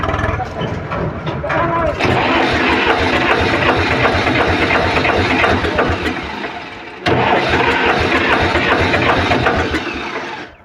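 A loud tractor engine with a heating problem runs steadily and roughly, briefly easing off before surging back to full power.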